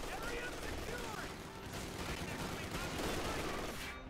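Continuous machine gun fire, with other gunfire mixed in, rattles throughout a Company of Heroes 2 3v3 battle with British forces, dense and loud from start to finish.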